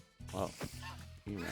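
Goose honking from a Minecraft modpack game, a few nasal quacking calls close by and fairly loud, overlapping with someone speaking.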